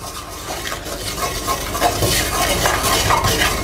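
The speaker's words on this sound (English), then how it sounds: "we're going to add that little bit of oil to our pan, and we're going to add some flour. And we want to make that into a paste." A utensil scrapes and stirs oil and flour into a paste in a pan, a close, steady swishing with faint sizzling underneath.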